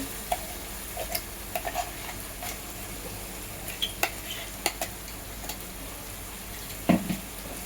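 Ground spice masala with a little turmeric sautés in a pan for spicy misal pav, giving a faint, steady sizzle broken by scattered light clicks and taps of stirring, with no talking.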